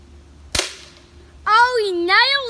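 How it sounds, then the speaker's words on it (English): A BB gun fires once with a sharp, close snap, followed by a lively voice talking over the quiet afterward. "He's pumping his BB gun, getting ready to shoot it."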